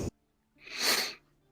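A single sneeze in a town-gathering scene, a short breathy burst rising over about half a second, close and moderately loud, with brief faint sounds before and after.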